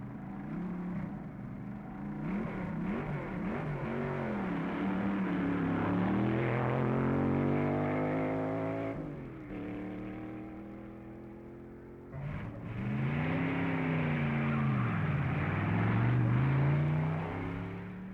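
B-class dragster race cars at the 1961 U.S. Nationals drag race, engines roaring and rising in pitch through two long accelerating runs, loud and sustained with a brief dip between.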